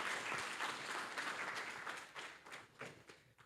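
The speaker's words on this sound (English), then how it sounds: "clap for yourselves for picking to do this" Steady applause from a crowd, a dense wash of clapping that fades slightly toward the end with a few sharper claps standing out.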